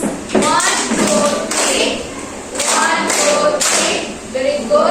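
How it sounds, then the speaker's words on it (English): A classroom of Grade 6 pupils performs a rhythmic group clap in counted bursts of beats, loud and close, with children's voices chanting and calling over the clapping throughout. "let us give group 3 an Indonesia clap like this"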